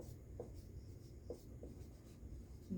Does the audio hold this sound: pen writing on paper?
yes